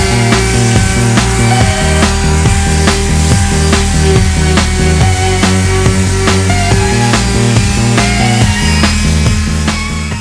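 Power sanding of the teak deck on a 45-year-old cruising boat, a loud, steady, buzzing grind that runs continuously with rhythmic scraping pulses and no pauses.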